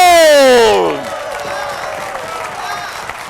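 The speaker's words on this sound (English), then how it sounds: "let us applaud them all!" A loud, drawn-out voice opens, then an audience applauds soldiers, sailors and Marines at a Lafayette American Revolution presentation, with steady, fairly distant clapping and faint crowd noise.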